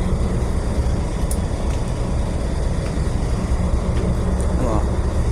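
The engine of a Z-peller tugboat runs as its RPM is raised, a dense, loud, continuous low rumble with a steady mechanical drone that fills the whole stretch, heard up close.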